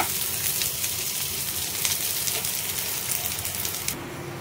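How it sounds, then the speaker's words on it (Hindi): Chopped coconut sizzles in hot oil with onion, garlic and ginger, a loud, steady crackling fry with faint stirring clatter, briefly dropping away near the end. "तभी हम इसमें डाल देंगे नारियल जो मैंने कट करके रखा था, अभी इसको भी थोड़ा देर फ्राई करेंगे"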